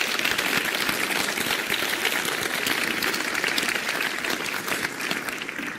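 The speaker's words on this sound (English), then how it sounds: "a big thank you and a round of applause to Jim Martin and Paul Davidson" Sustained audience applause at a red carpet event, dense and steady clapping from a large crowd that holds at an even level for the full stretch without any talking.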